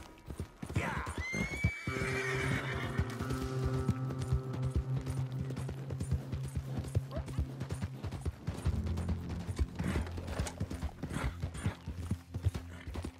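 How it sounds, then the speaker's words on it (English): Horse in Red Dead Redemption 2 whinnies loudly once, then hooves clip-clop steadily close by, with a mechanical hum and other game sounds layered beneath and a brief voice in the background. "Get on the horse!"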